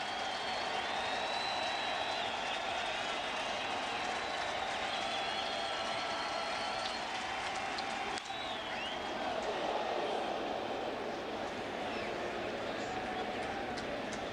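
Baseball stadium crowd at a Brewers–Cardinals game cheering and applauding for the pitcher on the mound, a steady distant roar sustained throughout, with a broadcaster talking over it.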